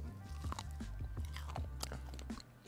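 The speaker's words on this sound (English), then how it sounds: "I want to hear the crunch." Crunchy bites into fried hot honey salmon bites, a series of close, crisp crunches and chewing sounds in an uneven rhythm, with faint talk in the background.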